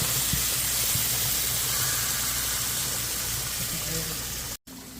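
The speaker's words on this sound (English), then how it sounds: "So I'll go ahead and put that in here as well to fry up with my curry masala." Curry leaves and curry masala frying in hot oil for a kakwari catfish dish give a steady, loud sizzling hiss that runs unbroken for several seconds before a brief cut near the end.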